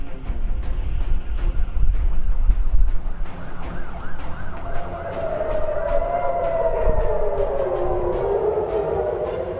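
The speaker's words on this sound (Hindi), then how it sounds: "कहीं सायरन की गूंज तो कहीं धमाकों की आवाज।" An air-raid siren in Israel during rocket fire from Gaza rises and wails in long, slow sweeps, heard at a distance over low rumble, with a steady ticking click pulsing throughout.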